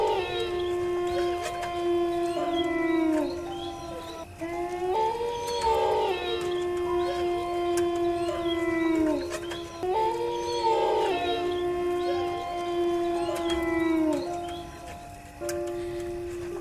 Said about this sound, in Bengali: আর দুই একটা শিয়ালের ডাকের শব্দ শোনা যাচ্ছে